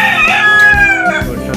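A desi and tiger cross-breed rooster crows loudly and close at hand in a rooftop cage, one long drawn-out call with a falling tail, heard alone without talk.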